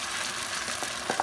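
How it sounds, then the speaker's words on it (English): Mongolian beef in a frying pan sizzles as sauce is stirred through it, a continuous bright hiss with a couple of brief scraping touches at the end. "We're gonna stir this until it thickens."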